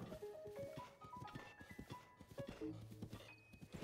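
Horse hooves clip-clop steadily while riding in the video game Zelda: Breath of the Wild, a quick rhythmic trot of close hoofbeats with a snort or whinny and game music tones layered over it.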